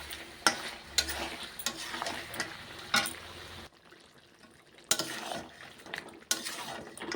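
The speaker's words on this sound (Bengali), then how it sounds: "ভাজা ভাজা করবো আদা রসুনটা দিয়ে।" Ginger and garlic paste sizzles with meat in a pan, punctuated by sharp scrapes and knocks of a spoon stirring against the metal, close and fairly quiet, with a brief pause in the middle.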